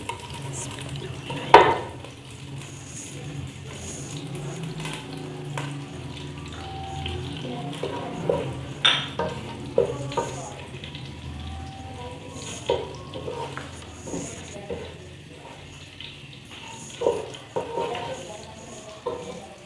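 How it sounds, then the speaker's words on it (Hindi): Fennel seeds and green cardamom sizzle softly in melted ghee in a pan, with a low steady frying hiss broken by occasional clinks and scrapes of stirring. "घी थोड़ा सा मेल्ट होता है तो इसमें मैं डालूँगी सौंफ और सब्ज़ इलायची"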